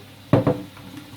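A spoon knocks twice against a bowl while blueberry custard pie filling with lemon zest is mixed, two quick close clinks in an otherwise quiet kitchen.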